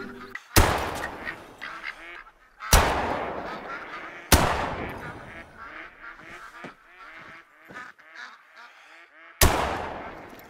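Ducks quack in theHunter: Call of the Wild, several harsh, raspy calls in an uneven series between loud, sharp gunshot-like bangs that ring out and decay.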